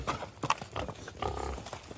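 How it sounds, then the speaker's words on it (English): Goats and pigs crowding in at feeding time on a small farm: close grunts, snorts and shuffling movement of livestock, with hooves and jostling sounds in quick irregular bursts. "the goats have found their way to me and are trying to just eat it all before I can get it to the pigs"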